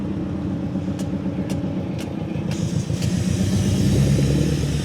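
Several cars pull into a Cars & Coffee meet, a steady mid-pitched engine drone that swells slightly louder toward the end, with a few brief higher sounds in the first half.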